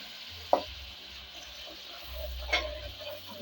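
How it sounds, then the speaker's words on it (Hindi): Tomato puree hits a pan of frying masala for aloo palak, giving a quiet sizzle with a couple of sharp clinks and spoon scrapes as it is stirred, close and low. "अब हम इसके अंदर ये टमाटर प्यूरी डालते हैं"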